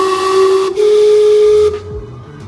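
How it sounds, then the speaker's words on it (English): The steam clock in Gastown, Vancouver, sounds a loud, sustained, steady steam whistle tone outdoors for nearly two seconds, then cuts off abruptly and leaves low street noise behind. "Then it was time to see the main attraction in Gastown, the steam clock."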